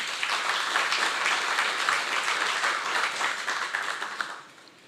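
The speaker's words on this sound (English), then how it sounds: "Please give him a round of applause." Audience at a conscious leadership and ethics summit applauds a speaker, a dense, steady wash of many hands clapping that holds evenly before tapering off at the end.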